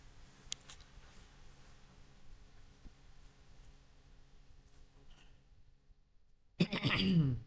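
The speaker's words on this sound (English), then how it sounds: "My cough is not having fun." A quiet room hum with a few faint ticks gives way near the end to one loud, close cough from a person with a lingering cough.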